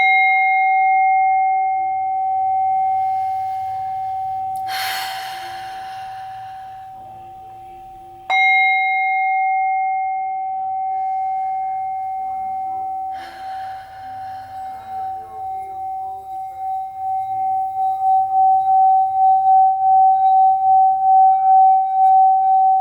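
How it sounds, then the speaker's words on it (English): A singing bowl hums with a steady, sustained ringing tone that carries through the whole stretch, struck again partway through to renew its shimmer, with a low pulsing wobble swelling toward the end. "I might actually just start by playing a little bit of this bowl, or a sound bowl, some people like to call it."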